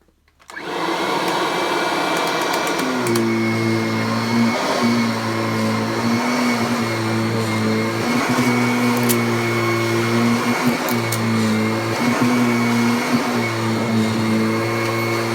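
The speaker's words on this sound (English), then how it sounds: "so I'm going to have to use the vacuum for it" A Kirby Sentria 2 vacuum cleaner starts up and runs continuously at close range, a loud steady motor whine with a pulsing, slightly rising and falling tone as it works through stubborn pet fur.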